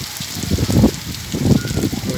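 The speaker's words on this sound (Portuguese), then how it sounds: "E hoje o sertão é de chuva." Rain falling in the hot Brazilian sertão, a steady broadband patter and hiss with soft, low rumbling swells, recorded close by with no clear talk.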